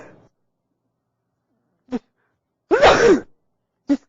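A single sharp sneeze bursts out close to the microphone, bracketed by brief breaths or clicks and otherwise silence.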